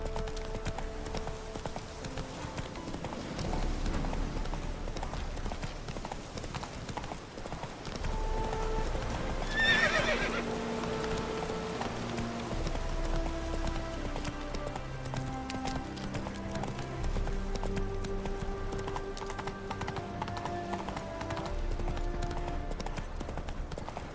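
Roach, Geralt's horse in The Witcher 3, gallops in a fast, continuous drumming of hooves that runs the whole stretch under game music and ambience, with a brief whinny-like burst midway.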